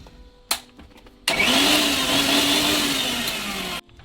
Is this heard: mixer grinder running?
yes